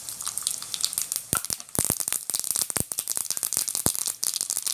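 Mustard seeds popping in hot oil alongside frying chana dal, a dense run of sharp crackles and spits over a steady sizzle, close and fairly loud with no voices.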